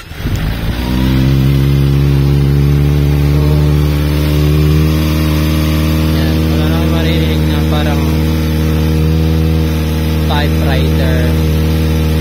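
Kawasaki ZX-25R motorcycle engine starting cold, a brief crank then a steady, loud, buzzing high-revving idle that holds throughout, with someone talking over it.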